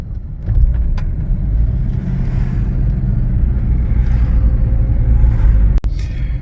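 Steady low engine rumble and road noise from inside a taxi car driving on an order, constant and close, with a brief click near the end and no talk.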